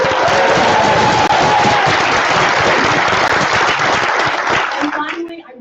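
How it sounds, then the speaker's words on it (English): Loud crowd applause at a college candidate forum, thanking the student organisers, dense and sustained for about five seconds before tapering off at the end. "let's give them a round of applause"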